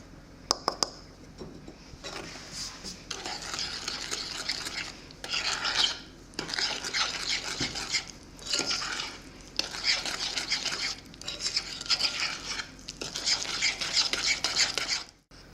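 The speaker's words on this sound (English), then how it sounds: "I'm going to give it a good mix." Tart dough being mixed with flour in a bowl, repeated scraping and rubbing strokes in bursts separated by short pauses, close and fairly loud.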